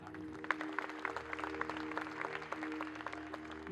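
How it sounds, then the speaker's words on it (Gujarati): An audience claps steadily in honour of a family at a gathering, a dense patter of many hands running throughout with a faint tonal hum beneath. "પરિવારના માટે બે હાથ ઉપર કરીને આપણે એમને તાળી"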